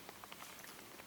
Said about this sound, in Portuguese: E vem mais chuva.